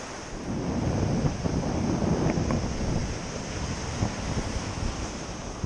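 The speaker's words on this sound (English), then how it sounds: "You can see that the waves are breaking right here on shore." Gulf surf at Orange Beach, Alabama breaks steadily on the shore in a continuous wash of waves, with wind rushing across the microphone and no voices.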